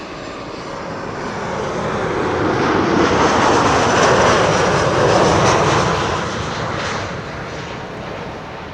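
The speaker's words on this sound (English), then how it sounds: "This is Tarom though. Flight 361, 737-700, arriving from Bucharest" A Tarom Boeing 737-700 jet arriving from Bucharest lands at Schiphol, its engine roar building from moderate to loud as it passes overhead, then fading, with no talk over it.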